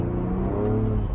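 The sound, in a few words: Ford Bronco Raptor spinning up its tires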